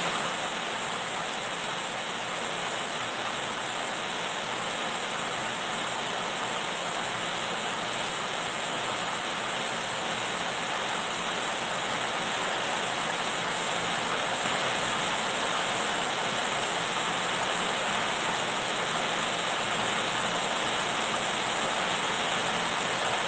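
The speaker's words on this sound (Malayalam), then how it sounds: "എനിക്കൊരു ഭയങ്കര മഴയാണ്." Heavy rain pours in a constant, broad, even roar that holds steady for more than twenty seconds without a break, and no voices can be heard.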